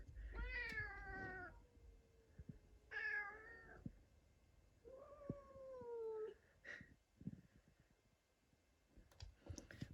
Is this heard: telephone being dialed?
no